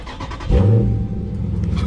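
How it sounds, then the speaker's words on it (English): A 2018 Dodge Charger Scat Pack engine cranks and catches, then settles into a throaty idle that rumbles on steadily. "to turn this car on"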